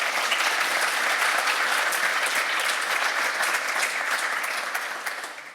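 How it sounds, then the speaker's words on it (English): An audience at a One Health talk about wild animal and human health breaks into sustained applause, dense clapping that holds steady before tapering off at the end. "Big round of applause to Javi."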